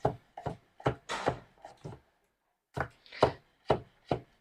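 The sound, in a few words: chopping carrots with a Victorinox knife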